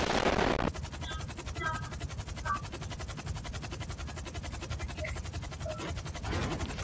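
Rapid automatic gunfire from a player's weapon in GTA V rattles out in a dense, continuous stream for several seconds, loud and close, with a brief sharper burst at the start.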